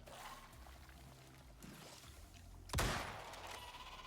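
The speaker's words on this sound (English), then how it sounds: "They shoot like this goop." Worm enemies in a video game shooting goop: a wet splattering burst stands out among low gurgling, pouring-like game noise, fairly faint overall.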